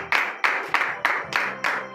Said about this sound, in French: que je vous demande d'applaudir très très fort notre Dieu ce matin